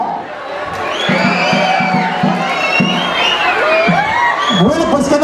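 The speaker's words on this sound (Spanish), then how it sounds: "Venga, fuerte el aplauso." Crowd at an outdoor mojiganga festival in Tepalcingo cheers and whoops loudly, voices shouting over a dense roar with children's cries, while music or a horn pulses underneath.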